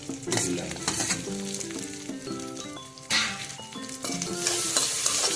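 Chopped medium tomato hits a hot pan already holding peas for upma, giving a bright, crackling sizzle with stirring scrapes and bursts of spatter that rise and fall close up.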